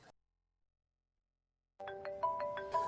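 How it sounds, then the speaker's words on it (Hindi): An incoming phone call triggers a ringtone that starts abruptly after a stretch of silence, a clear melodic electronic tone with repeating pulses, fairly loud with no talk. "अभी मुझे फ़ोन क्यों लगा रहा है?"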